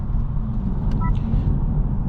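Low, steady drone from the CVT of a new Honda Civic Sport while cruising, a constant rumble with road noise underneath and a faint high whine briefly rising over it.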